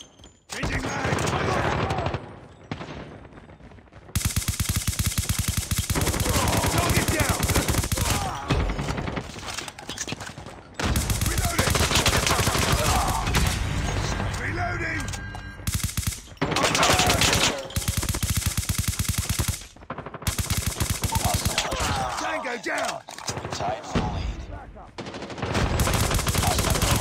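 Gunfire in Call of Duty Mobile: loud automatic bursts fill long stretches, broken by brief pauses, with short callouts from a voice mixed in.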